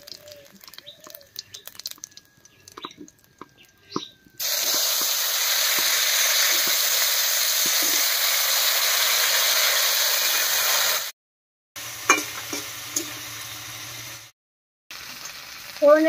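Cut potatoes drop into hot oil already tempered with dried red chili, whole cumin and bay leaf, bursting into a loud, steady sizzle that runs for several seconds, then breaks off briefly and returns with softer scraping and stirring.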